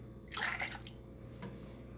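Milk poured from a container into a pot, six cups measured out for a caramel pudding; a brief splashing pour rises and fades, followed by a softer second trickle, close and alone.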